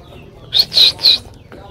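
Chickens and pigeons in a coop give three short, bright calls in quick succession, fairly close, over a quiet background.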